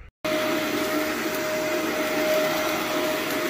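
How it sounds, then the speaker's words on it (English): Vacuum cleaner running continuously over an area rug during a pickup-and-delivery rug cleaning job, a loud steady close-up whine and roar that starts abruptly after a brief moment of quiet. "We'll vacuum it first though."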